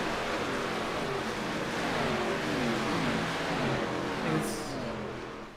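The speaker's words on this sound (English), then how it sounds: "That's the sound of speed, ladies and gentlemen. Upwards of 800 horsepower just flying by all at once." A pack of ARCA race cars roars past in a racing video game set at Atlanta, a dense continuous engine drone from many cars at once, with shifting pitch sweeps as they fly by, moderately quiet with no voices.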